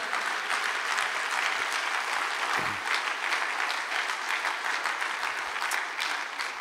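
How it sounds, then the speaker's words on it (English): Congregation clapping hands in praise at a church service, a dense, steady patter of many hands that fills the space evenly throughout. "Would you clap your hands unto the Lord?"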